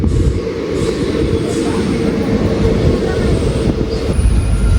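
A train in Kerala crosses from the main line onto the loop line approaching Irinjalakuda station, a loud, continuous wheel rumble and rattle heard from on board, with a thin wheel squeal near the end.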